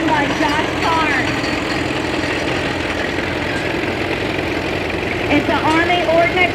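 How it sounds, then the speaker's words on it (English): A 1929 Caterpillar Twenty, an Army Ordnance tractor, runs at an antique tractor parade, its engine chugging in a steady, loud, unbroken rumble with crowd voices mixed in. "Here we got a Caterpillar 1929-20, owned by Josh Carr."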